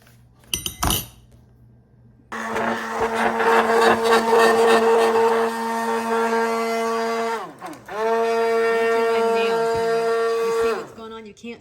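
Hamilton Beach electric immersion hand blender whirring loudly in a container of salad dressing for a spinach, strawberry and pecan salad, starting after a clink, running steadily, briefly dipping in pitch, then resuming before cutting off.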